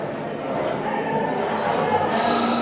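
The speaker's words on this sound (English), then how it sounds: "You can hear the cafe in the background, which is a bit noisy." A steady murmur of indistinct chatter and clatter fills a busy cafe inside the Bluecoat Chambers in Liverpool, with no single voice standing out.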